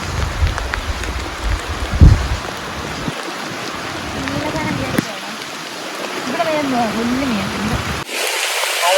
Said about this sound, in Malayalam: നല്ല സൂപ്പർ മഴയാണ്